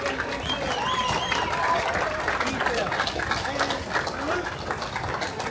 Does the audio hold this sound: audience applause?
yes